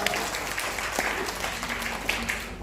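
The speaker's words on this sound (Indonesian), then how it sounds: "Tepuk tangan bagi Yesus dapat." A congregation at a Jakarta family blessing service breaks into applause for Jesus, a dense, sustained clapping that fills the room, with a faint voice briefly audible underneath.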